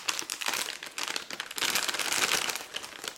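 A sealed plastic bag of small installation parts is cut open and shaken out, giving continuous close crinkling and rustling with brief rattles of contents tipping out.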